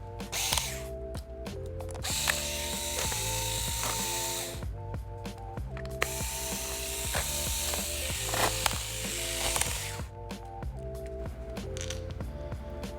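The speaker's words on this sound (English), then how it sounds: "take all the screws out of the bottom cover" A small power screwdriver whirs in repeated short bursts, removing the bottom cover screws from an HP Chromebook 14 G6 laptop, close and steady with brief pauses between screws.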